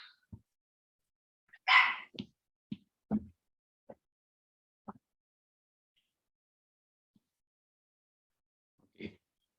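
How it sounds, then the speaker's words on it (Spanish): A small dog barks in short, sharp, scattered bursts from a room near an open window, fairly distant and quiet, with long silent gaps between the barks and no talk. "Y ladra mi perra."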